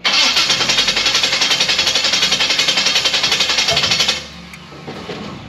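A Blueprint 540 big block V8 in a C10 pickup cranks hard with a fast, rhythmic starter chug for about four seconds, then stops abruptly, followed by quieter clanks and a short low rumble.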